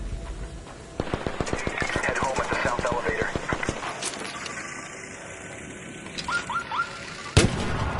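Rapid automatic gunfire from the ARC Raiders game cracks out in a dense burst for about three seconds, then single scattered shots. A voice talks over it, and one last loud shot rings out near the end.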